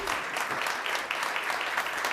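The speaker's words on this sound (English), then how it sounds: "Now, yes, we can applaud." Audience applause at a city council meeting, a dense crackle of many hands clapping for about two seconds, moderately distant and steady.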